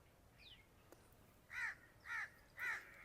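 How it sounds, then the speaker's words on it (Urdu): A crow caws outdoors, three harsh calls in a steady rhythm after a fainter earlier call, moderately distant and alone. "یہ دیکھیں کتنا پیارا ایک پرندہ ہے"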